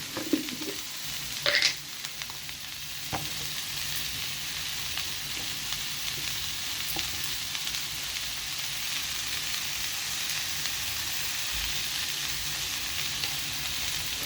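Tomatoes sprinkled with salt sautéing in a pan for butter chicken, an even, steady sizzle with a few early clinks of a utensil against the pan.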